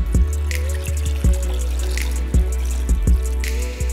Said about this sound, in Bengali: দেন আমি পরিমাণ মতো পানি অ্যাড করছি।